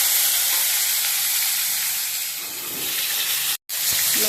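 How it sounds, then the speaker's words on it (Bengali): Eggplant pieces, seasoned with salt and turmeric, sizzle and hiss steadily in hot oil in a kadai for a Bengali shukto, a continuous close frying sound with one brief dropout near the end. "এবার বেগুনগুলো ভেজে নেব।"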